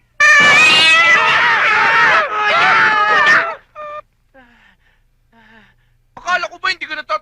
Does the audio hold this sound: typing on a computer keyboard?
no